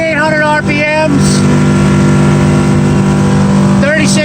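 A 2003 Scout 235 Sportfish center console boat runs its 150 engine at 5,800 RPM, cruising at about 36 mph with a loud, steady, high drone and constant wind and water rush. Someone talks over the noise.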